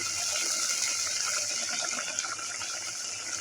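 Water pours steadily and continuously, a close, even splashing rush with no talking.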